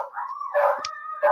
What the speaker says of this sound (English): my dogs are acting up again